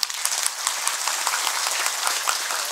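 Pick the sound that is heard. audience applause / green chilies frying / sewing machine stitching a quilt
audience applause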